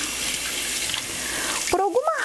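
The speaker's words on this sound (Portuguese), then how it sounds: "Agora a água é normal, eu só vou tirar o excesso de sabão e de água rosa que tem aqui." Steady hiss of tap water runs into a sink while wool dyed with crepe paper is rinsed, then the flow cuts off near the end, leaving a few faint wet splashes and squeaks.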